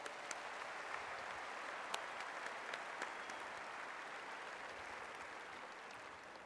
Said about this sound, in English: Can you join me in thanking this great group and give them another round of applause?